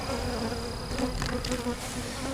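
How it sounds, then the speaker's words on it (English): Honey bees buzz continuously inside a hive packed full of bees. The hum is dense and steady at moderate volume, with individual bees flitting close by now and then. "Look at the bees in this thing."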